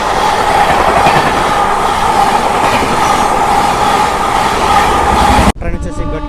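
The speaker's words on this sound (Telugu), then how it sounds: "ట్రైన్ వచ్చేసి గట్కేశ్వర్ నుంచి అయితే బయలుదేరిపోయింది" A MEMU passenger train pulls out of Ghatkesar, recorded loud and close from inside the carriage: a continuous roaring rumble with rhythmic wheel clatter that cuts off abruptly near the end.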